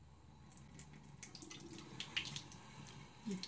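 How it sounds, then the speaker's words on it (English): Water runs softly from a tap into a sink, a faint, steady splashing trickle with small droplet sounds, heard close and quiet. "You turn on your water tap."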